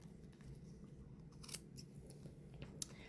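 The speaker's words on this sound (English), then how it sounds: "I'm just cutting the ends to release the pom-pom from the cardboard" Big scissors snip the yarn ends of a crochet pom-pom to free it from cardboard, giving two faint, crisp cuts over quiet room noise.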